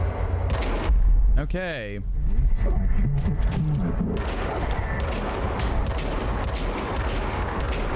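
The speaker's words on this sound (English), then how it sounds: "Now I have a gun. Fire weapon." A gun fires in the video game Control, with loud repeated bursts of shots and crackling impacts over about eight seconds. A person talks over the gunfire.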